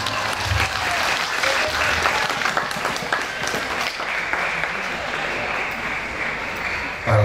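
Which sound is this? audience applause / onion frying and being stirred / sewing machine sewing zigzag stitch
audience applause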